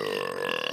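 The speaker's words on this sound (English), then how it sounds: "That's like the new bell ring is my burp." A single long, loud burp rumbles on for almost a second with a steady, throaty drone and no talk over it.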